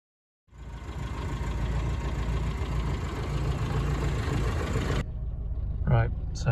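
A Ford Escort Mk3 engine cranks and fires into a steady, close idle after a points and condenser service. It runs evenly for several seconds, then drops back, with a voice talking near the end.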